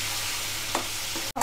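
Tomatoes and onions sauté in a pan for a murrel fish curry, a soft, even sizzle with a faint stir or two before a sudden break at the very end.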